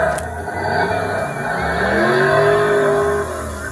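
Simulated engine roar from a kids' ride-on licensed 1970 Dodge Charger toy car, a loud revving V8-style sound effect that rises in pitch as if accelerating, continuous and close.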